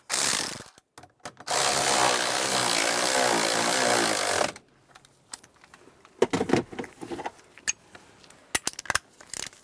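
A nut is tightened by hand ratchet onto a 2007-2013 Chevrolet Silverado steering column, a dense burst of rapid clicking for about four seconds, followed by scattered faint clinks and taps of handling nearby.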